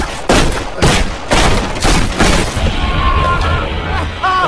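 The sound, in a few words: gunshots fired in a film scene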